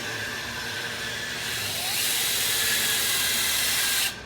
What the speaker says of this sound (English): And then start polishing.